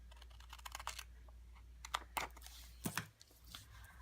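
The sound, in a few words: scissors cutting stickers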